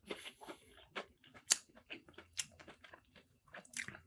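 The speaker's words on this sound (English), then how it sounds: "Okay, so first chew." Close, crunchy chewing and biting on hot, fresh Popeyes fried food, with irregular crisp crunches and wet mouth sounds over about four seconds and no talking.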